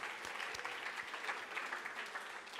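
An audience applauding at a talk about clouds at Selfridges, steady dense clapping held at a modest, slightly distant level for a few seconds.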